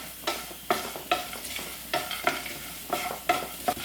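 Whole spices being dry-roasted for garam masala are stirred in a pan. Close, repeated scraping strokes come in an uneven rhythm of about eight sweeps, with no voices.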